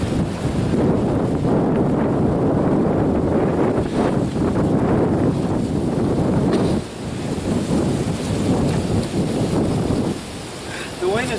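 Strong, damaging wind buffeting outdoors, a loud, continuous roaring rumble with heavy gusty blasts against the microphone, briefly easing twice before surging again.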